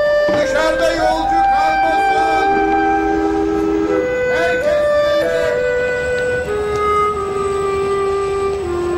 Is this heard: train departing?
yes